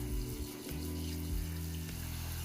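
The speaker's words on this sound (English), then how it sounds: "fill up the water bowl" Water running from a tap into a bowl for a frog terrarium, a quiet, brief, steady splashing flow heard alone.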